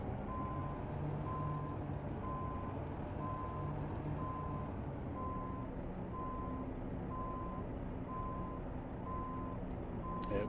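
Truck reversing alarm in American Truck Simulator beeping steadily in an even repeating rhythm, about ten evenly spaced beeps, over a constant low engine rumble, with no talk.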